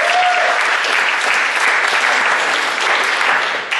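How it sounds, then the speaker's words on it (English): Loud, dense audience applause fills a recognition banquet hall, steady throughout and close. "give them all a big round of applause"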